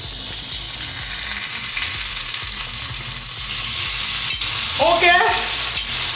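Chicken tawa fry sizzles steadily and loudly on a hot griddle, a dense continuous hiss, with a brief scrape and sputter surge near the end as the pieces are flipped.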